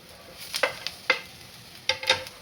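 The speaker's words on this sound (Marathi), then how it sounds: "टमाटर पण चांगले परतून घ्यायचे आहेत." Ginger, cashews and tomatoes sautéing in a pan for paneer masala, with a few separate scraping stirs and soft sizzles, close and fairly quiet, no talk.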